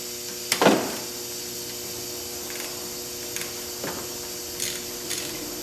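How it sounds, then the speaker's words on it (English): Brake caliper mounting bolts on a Subaru Outback front brake are loosened: one sharp metallic crack from the wrench, then a few faint, scattered clicks and taps in a quiet garage. "We're going to loosen the caliper mounting bolts."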